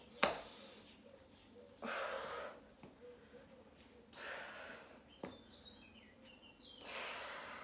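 Breath is drawn in and pushed out during a strength workout, several audible close inhales and exhales spaced a second or two apart, quiet and airy, with faint sounds in between.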